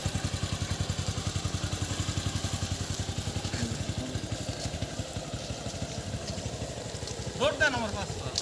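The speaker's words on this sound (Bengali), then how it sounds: "দেখেন মোটরসাইকেলটা কেমনে চালায় উল্টা দিকে" A motorcycle engine runs steadily with a rhythmic low putter throughout, ridden in an unusual backwards style, with a brief clatter and rise near the end.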